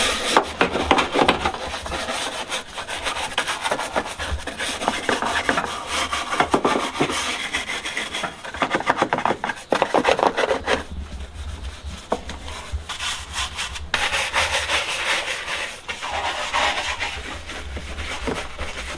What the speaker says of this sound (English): At this point, guys, I'm just going to start scrubbing.